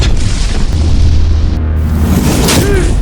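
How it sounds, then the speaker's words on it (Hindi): Deep, rumbling booms from artillery shell explosions in a mountain valley battle roll loudly and continuously, with heavy low-end reverberation and no clear separate gunshots. "घाटी का शांत माहौल बंदूक से चलने वाली गोलियों और तोप से दागे जा रहे गोलों के धमाकों से गूंज उठा"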